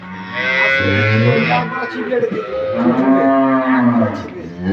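Dairy cows mooing at a cattle market in Dinajpur, long loud low calls overlapping almost continuously and close by, with a brief dip midway before more lowing resumes.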